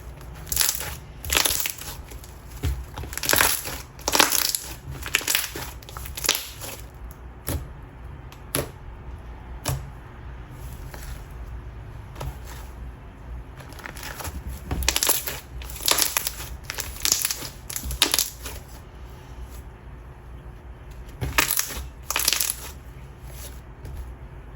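Thick OG slime is squished and pressed by hand, giving out repeated loud, sharp pops and crackles in bursts, close up and crisp, with quieter squishing in between.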